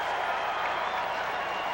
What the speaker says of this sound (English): The crowd for Evangel getting into it now